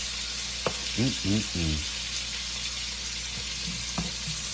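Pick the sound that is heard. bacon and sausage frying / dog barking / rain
bacon and sausage frying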